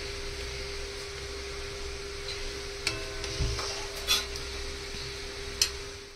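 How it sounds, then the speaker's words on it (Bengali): Cashews are stirred in a frying pan, a steady low sizzle running underneath occasional scrapes and light taps of the spoon against the pan, close and continuous. "শুধু নাড়িয়ে যেতে হবে"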